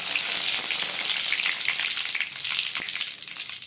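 Curry leaves hit hot oil in a pan for a Tamil-style brinjal kara kuzhambu, giving a loud, bright, continuous sizzle up close that eases slightly toward the end, with no talking.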